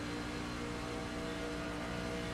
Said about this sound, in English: We'll go roll bar of James Pileski's truck, and you can hear how it sounds